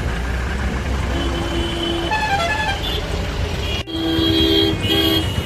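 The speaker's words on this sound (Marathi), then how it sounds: "ट्रॅफिक लागलं आहे आज" Busy road traffic in a jam rumbles steadily while several car horns toot in short bursts, some overlapping, fairly close by.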